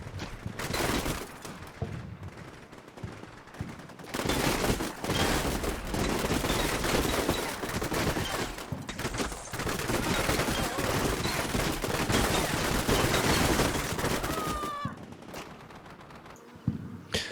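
Rapid automatic gunfire and scattered rifle shots crackle almost without pause in the Combat Mission Shock Force 2 video game, dense and loud, dropping briefly at two points before resuming.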